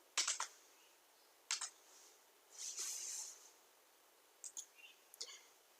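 Computer keyboard typing, faint scattered bursts of quick clicks separated by pauses, with one slightly longer rustling run in the middle.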